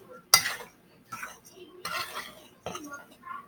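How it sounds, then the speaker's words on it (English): Spoon scraping and clinking against a bowl while stirring oatmeal cookie ingredients together, in several separate bursts of close, crisp knocks and scrapes. "I'm just going to use my spoon and I'm just going to stir this"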